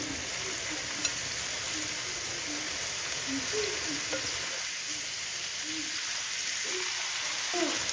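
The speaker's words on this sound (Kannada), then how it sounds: "ಪಾಲಕ್ ಸೊಪ್ಪು ಹಾಕ್ಕೊಂಬಿಟ್ಟು ಜಸ್ಟ್ ಒಂದೇ ಒಂದು ನಿಮಿಷ ಹುರ್ಕೊಂಡ್ರೆ ಸಾಕು" Spinach (palak) leaves sizzle steadily in a hot pan with softened tomatoes, a constant close frying hiss with faint stirring scrapes and no talking.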